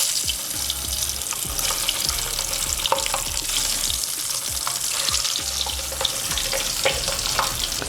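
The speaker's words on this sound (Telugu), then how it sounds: "ఇప్పుడు ఆయిల్ కాస్త వేడెక్కిన తర్వాత ఇందులో మనం ముందుగా కోట్ చేసుకున్న గుడ్లని వేసుకుందాం." Coated eggs frying in hot oil in a pan give a steady, close sizzle and crackle, with light clinks and stirring taps scattered throughout.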